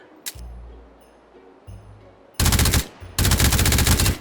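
Suppressed VSS Vintorez rifle in the H3VR virtual reality shooter, two loud rapid bursts of fire near the end, preceded by quieter mechanical clicks and handling noises.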